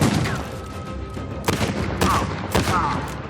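Gunshots in the video game Uncharted 4: A Thief's End, three sharp, loud cracks spaced about half a second apart over a low in-game ambience, with no talking.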